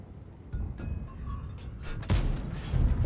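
Tank cannon shots in World of Tanks, a series of muffled booms and thumps against rumbling engine noise, with a louder, closer blast partway through followed by sustained low rumble.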